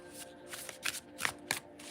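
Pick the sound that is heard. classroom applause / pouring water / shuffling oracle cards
shuffling oracle cards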